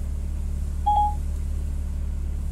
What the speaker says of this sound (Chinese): 正在给10086打电话。